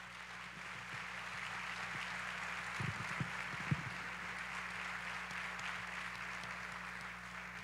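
A church congregation breaks into steady, sustained applause that carries on without letting up, heard from some distance with a low hum underneath.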